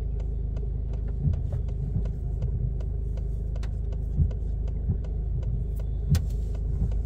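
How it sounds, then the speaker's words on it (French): A car rolls slowly backward into a parking space during a driving lesson, giving a low, steady engine hum near the listener with soft periodic clicks and small bumps, and no talk. "Je continue à reculer tout doucement."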